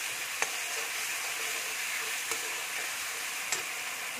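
Spice masala with vegetables steadily sizzling in a pan, a bright continuous frying hiss broken by a few soft stirring taps, with no voices.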